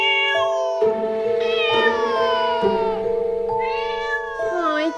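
A cat meows loudly and repeatedly in long, drawn-out wailing cries, close and clear with almost no pause between calls, and no talking underneath.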